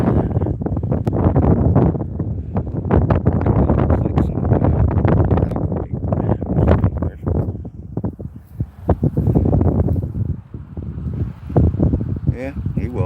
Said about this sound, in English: if you don't like wind, or wind's one of those variables you can't really deal with, don't come here